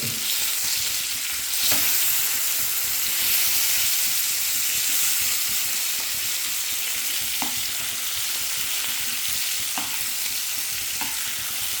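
Kilimeen (threadfin bream) fish fries in hot oil in a pan with curry leaves, giving a steady loud sizzle with a few brief clicks and stirring sounds, no voices.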